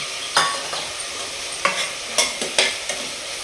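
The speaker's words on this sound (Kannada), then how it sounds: "ಹಸಿಮೆಣಸಿನ್ಕಾಯಿ ಸ್ವಲ್ಪ ಕ್ಯಾಪ್ಸಿಕಮ್ ಎಲ್ಲ ಫ್ರೈ ಆಗಿದೆ ಒಂದು ಅರ್ಧ ಸ್ಪೂನಷ್ಟು ಜೀರಿಗೆನೂ ಸೇರಿಸ್ತಾ ಇದ್ದೀವಿ" Green chillies, capsicum and cumin frying in a pan, a low steady sizzle broken by several sharp spatula scrapes and stirs at irregular intervals, close and without speech.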